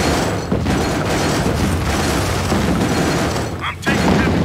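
Gunfire and explosions from a real-time strategy game battle, dense continuous booms and rattling fire filling the whole stretch, with game voice lines over the top.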